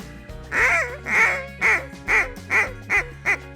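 A duck call is blown to imitate the muffled, clipped quack of a feeding hen, with seven quacks in a steady sequence, the first two drawn out and the rest short and evenly spaced, loud and close.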